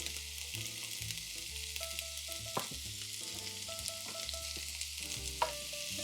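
Onion with salt frying in shimmering hot oil in a pan: a close, continuous sizzle with occasional stirring scrapes and no voices.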